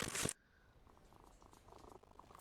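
A cat purrs softly and continuously in the Sherlock Holmes versus Jack the Ripper video game, a low, steady rumble following a brief louder burst at the start.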